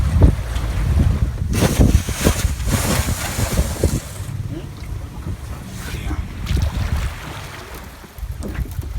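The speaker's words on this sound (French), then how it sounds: "il y a des vagues parce qu'il y a un peu de vent" Gusty wind buffets the microphone over choppy waves on the Pangalanes canal aboard a boat, a loud rushing roar with splashes, and people talk intermittently throughout.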